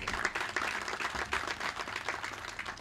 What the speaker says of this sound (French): cela mérite vraiment des applaudissements